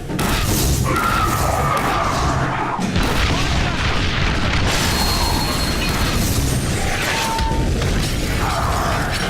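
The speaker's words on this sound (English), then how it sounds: "Bombardment now!" Continuous loud battlefield din from The Bureau: XCOM Declassified, with heavy booming bombardment explosions, crashing impacts and mechanical clatter filling the whole stretch, while combat voices call out over it.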